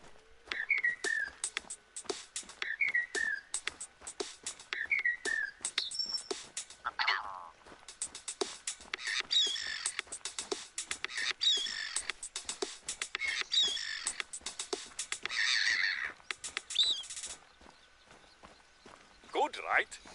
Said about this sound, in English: We recorded the call of some birds and made this.